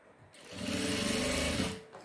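Sewing machine running a short continuous stitching burst along a seam, steady whirring for about a second and a half, close and moderately loud.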